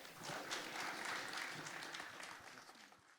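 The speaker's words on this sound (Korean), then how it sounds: "힘찬 박수로 맞이해 주시기 바랍니다." A forum audience in a hall claps loudly and continuously to welcome a speaker to the stage, dense applause that tapers slightly toward the end.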